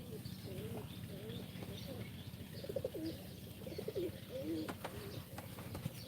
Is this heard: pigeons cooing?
yes